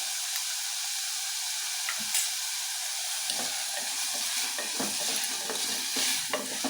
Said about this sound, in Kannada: ಟೊಮೊಟೊ ಈರುಳ್ಳಿ ಎಲ್ಲ ಚೆನ್ನಾಗಿ ಸಾಫ್ಟ್ ಆಗೋ ತನಕ ಫ್ರೈ ಮಾಡ್ಕೊಳ್ಳಿ.